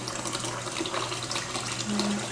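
Water runs steadily from a faucet into a sink, a continuous splashing hiss at moderate level with no talking.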